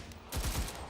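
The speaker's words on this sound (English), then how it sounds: "This is a full power rifle cartridge being fired out of an infantry rifle." Five-shot semi-automatic rifle firing in the video game Enlisted, a quick loud cluster of gunshots with deep low booms packed into half a second.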